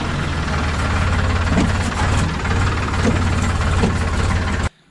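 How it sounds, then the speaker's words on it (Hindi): A Sonalika Sikandar DI 42 RX 42 HP 4x4 tractor engine idles loud and close in a steady, rough diesel rumble with a fast pulsing throb, cutting off abruptly at the end. "आज मैं जिस ट्रैक्टर का रिव्यू करने वाला हूँ ये है सोनालिका सिकंदर RX 42 4x4"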